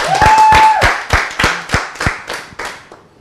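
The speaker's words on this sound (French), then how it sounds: "Mesdames, messieurs, tenons d'applaudissements pour Emery Gouej" Scattered applause from a comedy show audience, a run of separate loud hand claps that slow and thin out after an opening tonal sound.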